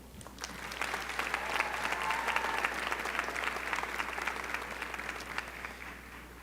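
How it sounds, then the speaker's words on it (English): Graduates at a university commencement ceremony clap together in a long round of applause, swelling quickly and holding steady, crisp individual claps audible within the crowd wash in a large hall, with a low hum underneath. "Graduates, please give one final round of applause for all these people who have supported you throughout your time"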